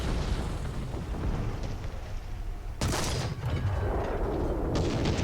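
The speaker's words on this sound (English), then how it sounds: "So he's trying to use that artillery shot to get me to move." In a tank video game featuring a Panther D, an artillery shell lands with a sudden loud blast partway through, over a constant rumbling battlefield background with no talk.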